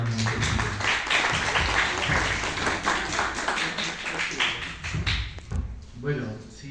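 Audience at a Spanish-language literary reading breaks into sustained applause, a dense wash of many hands clapping steadily for several seconds before tapering off, with a few voices mixed in.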